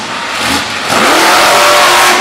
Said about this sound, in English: He's running the alcohol-blown engine right now.